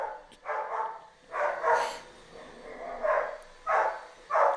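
A dog barks in about five separate spaced bursts, a moderately near, rhythmic woof sequence with quiet gaps between.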